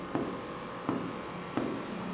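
Close-up handwriting on paper: steady scratchy pen strokes with three distinct taps where the pen lands, in a short quiet stretch.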